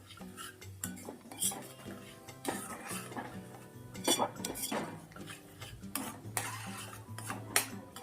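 Spoon scraping and clinking in a cooking pan while green chilli, salt and chilli powder are mixed together for Punjabi-style paneer makhani, with steady close stirring and metallic taps throughout and no talk.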